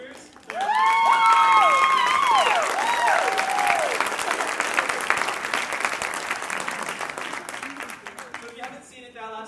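Audience applause and cheering for a soloist at a school choir gala, loud sustained clapping that follows the last sung notes of the piece and slowly tapers off, with a speaking voice at the end.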